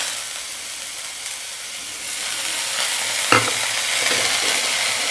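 Grated beetroot frying over a medium flame in a pan, a steady broadband sizzle with a stirring scrape near the middle, close and continuous, no voices.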